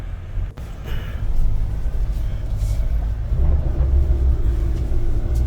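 A 2025 Mahindra Thar facelift labours up a steep off-road climb, its engine giving a loud, continuous low rumble under throttle that stays heavy and unbroken after a brief dip near the start.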